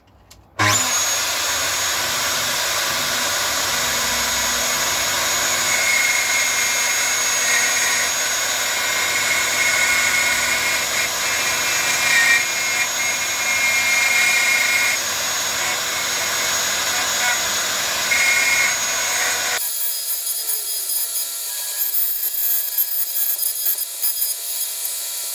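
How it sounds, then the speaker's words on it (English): A power cutter saws into a wood blank for a 1959-style Les Paul Special guitar body, a loud continuous whining roar lasting about twenty seconds before the motor cuts off abruptly, leaving quiet ringing. "let's just take an initial cut and I'll show you. Put that on there, take the cutter down"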